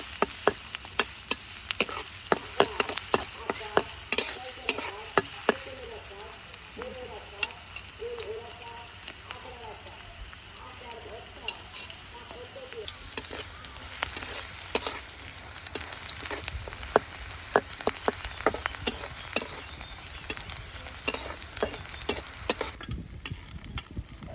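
Chopped onion and green chilies fry in oil in a pan, producing a soft, steady sizzle dotted with scattered clicks and scrapes of stirring, fairly quiet throughout.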